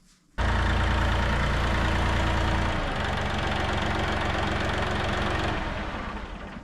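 A Kraft 4 grain grinder starts abruptly and runs loudly and steadily, its motor dropping to a lower, rougher hum after a few seconds, then fading slightly toward the end.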